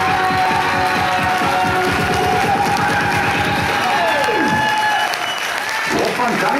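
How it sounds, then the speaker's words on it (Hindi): Loud audience clapping and cheering at a stage event as someone is called up, with rhythmic clapping and a rising musical tone cutting in partway through amid crowd noise. "जोरदार तालियां होनी चाहिए।"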